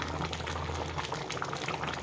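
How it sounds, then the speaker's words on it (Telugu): Tomato pieces sizzle and bubble in hot oil in a home kitchen pan for a Telugu-style tomato chutney, a steady close frying crackle with no talk. "కొంచెం ఆయిల్ వేసి టమాటా ముక్క వేస్తాను"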